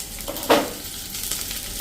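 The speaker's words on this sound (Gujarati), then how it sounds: "અને આ વઘારને આપણે સહેજ તેલમાં કકડાવી લઈએ" Mustard seeds, two chopped green chillies and curry leaves crackle in hot oil as a tempering for khaman dhokla, with one sharp sizzling burst followed by a lighter, steady crackle.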